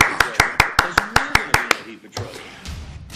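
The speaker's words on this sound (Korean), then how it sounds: "우리가 이렇게 가까이 된 놀라운 역사 앞에 아버님께 큰 감사의 박수를 올리겠습니다" A church service audience claps for the father in a quick, even rhythm, about eight sharp claps in a row, then the clapping stops and faint voices and rustling follow.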